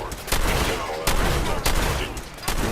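Repeated gunfire in Fallout 4, loud sharp shots cracking at irregular intervals over a continuous rattle of automatic fire, close and dense throughout.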